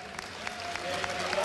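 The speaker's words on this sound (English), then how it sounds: "Everybody give yourselves a round of applause." Steady applause from an esports event crowd at a League of Legends final, dense clapping building slightly, with some voices mixed in.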